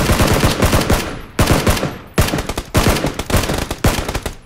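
Loud rapid automatic gunfire in a video game, several close bursts of machine-gun fire with brief gaps between them.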